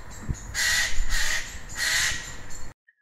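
A Eurasian jay gives harsh, rasping alarm screeches at a tawny owl, two long loud bursts with shorter calls between, close and alone before a sudden stop.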